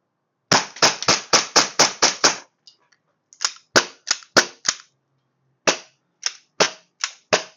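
Gas blowback airsoft pistol, a pink .45-style double-stacked model, firing a rapid string of about eight sharp shots, then after a pause several more bursts and single cracking shots, loud and close with no talk.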